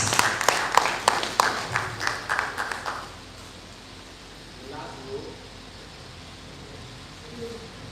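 A short burst of clapping for about three seconds at a university workshop session, then it stops, leaving quiet room noise with faint voices.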